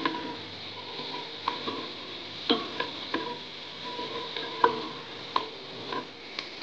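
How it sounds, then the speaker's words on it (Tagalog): Onions stirred in a pan for chicken curry, a soft steady sizzle broken by clear irregular clicks and taps of a utensil against the pan, close and without voices. "Sunod po natin ang ating sibuyas. Halo-haloin lang po natin."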